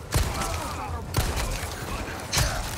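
Three sharp gunshots in Resident Evil 4 Remake ring out about a second apart, each a loud broadband crack over a steady background wash.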